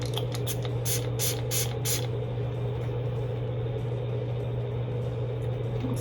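Several short, close hissing bursts of a Catrice pink-glow makeup setting spray in quick succession, followed by a steady low hum.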